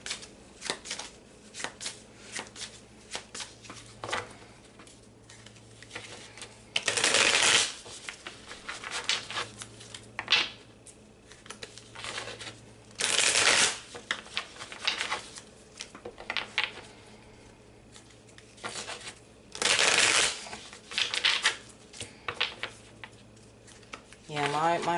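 A Wake Me Up Tarot deck is shuffled by hand in a tarot reading: three loud, crisp riffling bursts recur at intervals, with softer card handling and rubbing between them.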